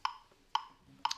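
A metronome ticks at 120 beats per minute for mandolin practice, giving three sharp, evenly spaced clicks with nothing else between them.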